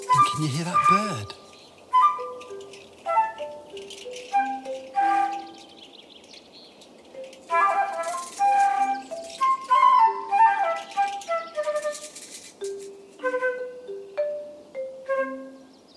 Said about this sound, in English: And can you hear that bird?